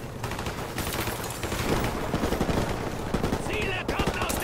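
Dense, rapid automatic gunfire at targets in the remastered Call of Duty: Modern Warfare campaign, with shots cracking in quick continuous bursts at steady loudness throughout.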